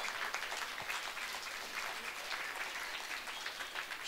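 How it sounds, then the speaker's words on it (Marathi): A crowd claps at a gathering, a dense, continuous patter of many hands at moderate distance, steady and fairly soft from start to finish. "तर यासाठी आपण जोरदार टाळ्या वाजवूयात."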